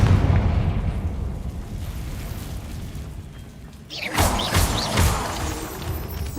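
A Confringo fire spell from Hogwarts Legacy goes off after a quiet stretch, a sudden loud burst followed by a few crackling bangs and rumbling debris, close and without talk.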